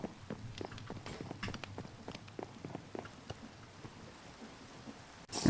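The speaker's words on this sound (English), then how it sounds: "So now we shall wait in the rain." Steady rainfall in Minecraft SkyFactory 5, a soft continuous patter with scattered sharper drop-like ticks, fairly quiet and even, with a louder burst right at the end.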